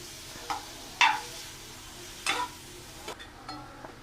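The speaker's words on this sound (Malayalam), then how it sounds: "അത് ഇങ്ങനെ ഇളക്കി നന്നായിട്ട് കൊടുക്കുക." Beef with masala is stirred in a pan, with a few separate scraping strokes spaced a second or so apart over a low background sizzle.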